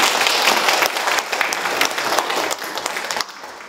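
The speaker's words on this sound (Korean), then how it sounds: "감사의 박수 한번." An audience gives a round of thanks with dense, fairly loud clapping that stays steady for about three seconds and then drops off sharply.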